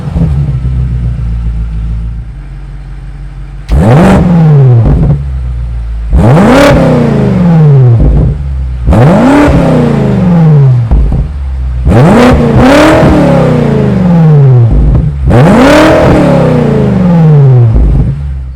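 A 2022 BMW X5 M Competition's 4.4-liter twin-turbo V8 with quad exhaust tips revving at a standstill, five sharp throttle blips rising and falling over a steady idle, loud and close with no talk.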